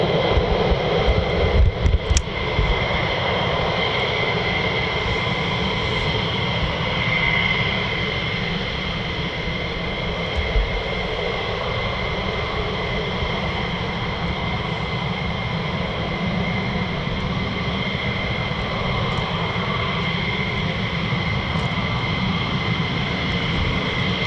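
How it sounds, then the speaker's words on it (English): Military jets, F-15E Strike Eagles and F-35As, taxiing at RAF Lakenheath, a steady loud engine whine and roar with high tonal hum held throughout, no talk. "We should be getting some more taxiing very shortly."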